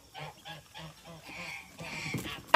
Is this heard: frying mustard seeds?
no